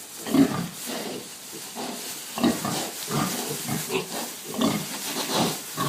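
Piglets grunt and snuffle while feeding, a busy overlapping run of short close grunts and nudging sounds with no break across the whole stretch.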